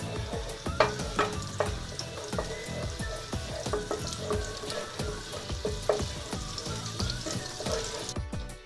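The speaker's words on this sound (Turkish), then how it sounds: "Evet arkadaşlar şimdi yağlarımızı güzelce eriteceğiz." Fat and butter melt in a pan while making Tokat-style tirit, giving a steady close sizzle with irregular crackles and pops and occasional scraping stirs, heard alone without voices.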